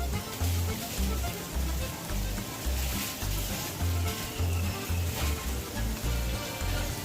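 Paneer tomato curry with Kashmiri chili powder sizzling and frying in a pan, a continuous crackling hiss with soft rhythmic low thumps as it is stirred.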